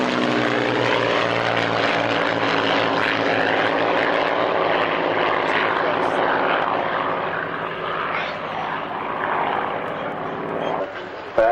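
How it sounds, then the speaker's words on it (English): A Spitfire propeller plane and a Harrier jet roar past close by at an airshow, a loud sustained engine drone that swells and slowly fades, with an announcer's voice over it. "From your right, ladies and gentlemen, the Spitfire and Harrier."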